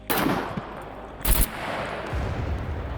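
A grenade launcher fires in the survival video game SCUM, with a sharp blast at the start, a second louder burst about a second later and a low rumbling tail afterward.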